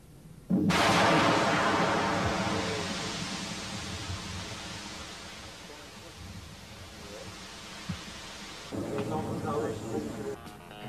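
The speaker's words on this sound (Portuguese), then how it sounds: "Eis uma caixa contendo 5 kg de TNT e seu efeito." A 5 kg box of TNT detonates in a sudden powerful blast, then fades into a long rumbling roar, followed later by a second burst of rough crackling noise.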